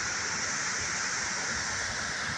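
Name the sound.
waterfall near an old dam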